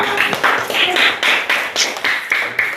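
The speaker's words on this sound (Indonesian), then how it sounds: "kasih aplaus untuk kelompok A" Classroom applause for student group A after their presentation: a run of brisk, rhythmic hand claps from a group, fairly close and steady for the whole stretch, with no talking over it.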